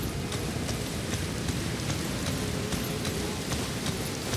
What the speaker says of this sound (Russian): Ну вот ночь поставил, тут снег и дождь.